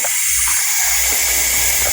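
A loud, steady hiss of pressure escaping from a hose during a cooling system pressure test on a rebuilt Mazda RX7, continuous and close throughout.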